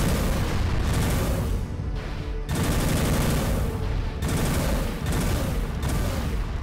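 Enemy gunfire rattles in Armored Core 3 mech combat, repeated loud bursts of shots and booms from both sides broken by brief gaps, close and dense throughout.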